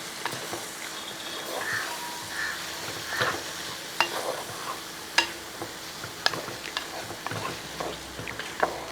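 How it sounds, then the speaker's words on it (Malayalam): Jackfruit seed and prawn stir-fry (chakkakuru chemmeen ularthu) being stirred in a pan, a soft steady sizzle with repeated clicks and scrapes of the spoon against the pan, close, no voices. "ഇനി നമുക്കൊന്ന് ഇളക്കി കൊടുക്കാം"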